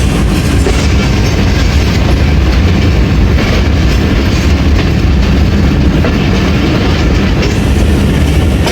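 The Awam Express passenger train rolls along the rails with a loud, continuous roar and a rattling clatter of wheels and carriages, heard close up the whole time.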